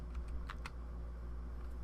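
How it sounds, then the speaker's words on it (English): Arrow keys tapped on a computer keyboard during photo editing, a few quick soft clicks in the first second, then near quiet with a low steady hum, close and faint. "now I'll use my arrow keys on the keyboard"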